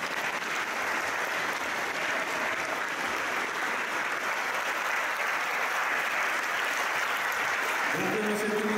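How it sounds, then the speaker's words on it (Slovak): A church audience applauds steadily and loudly after a Christmas concert in Teplička nad Váhom, the dense clapping holding even for several seconds before a voice begins speaking at the end. "Tak ešte jeden veľký potlesk."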